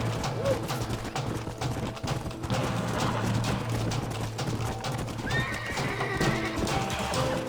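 Horses neigh and gallop in the video game Red Dead Redemption, with steady clip-clop hoofbeats and a whinny over a busy, loud game soundscape while someone shouts nearby.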